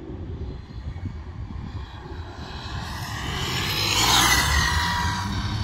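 C8 Felony at about half throttle, a continuous engine roar that swells and builds over several seconds with wind noise, with no talking.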